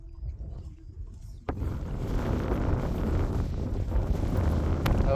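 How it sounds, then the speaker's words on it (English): Chilly wind gusts across the microphone on a countryside walk near Settle, starting quietly then swelling into a loud, steady rumbling buffet that continues to the end. "wind's getting up a bit and all. I tell you what, that wind is really nice."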